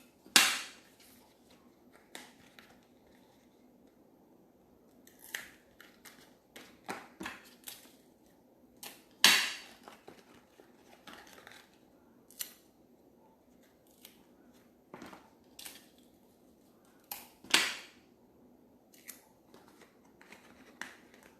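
Sharp, scattered crackles and snaps of adhesive tape pulled and pressed onto paper, with quiet rustling in between, close up and without talking.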